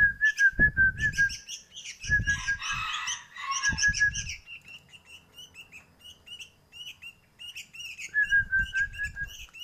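A one-month-old sooty-headed bulbul chick chirps and whistles up close in short repeated phrases, practising its song with bursts of rustling and scratchy handling noise in between.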